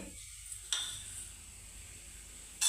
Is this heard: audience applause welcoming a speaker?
no